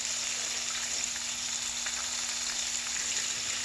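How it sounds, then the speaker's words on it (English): Liver frying in a pan gives a steady, even sizzle with a faint electrical hum beneath it, close and constant, with no voices. "we're just going to fry that on both sides"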